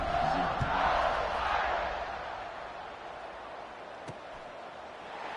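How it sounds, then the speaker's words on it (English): A stadium crowd in a college football video game with Notre Dame keeps up a steady roaring buzz after a score, loud at first and easing slightly, with a brief sharp knock near the end. "this crowd is buzzing after that last score"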